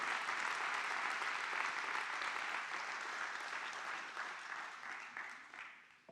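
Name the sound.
audience applause in church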